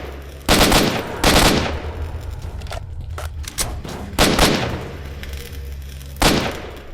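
Gunfire at poltergeists in the shooter game Stalker: Shadow of Chernobyl comes in loud, close bursts: four sharp volleys spaced a second or two apart, with quieter shots and echoing rumble between them.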